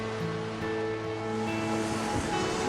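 Sea waves wash steadily onto a shore in a continuous, fairly loud surf roar with a gentle rise toward the end, and no one speaks over it.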